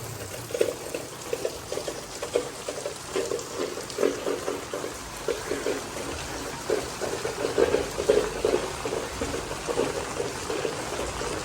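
Steady typhoon rain falls and splashes on surfaces near the flooded Marikina River, a continuous wet patter with uneven bursts of heavier spattering and dripping.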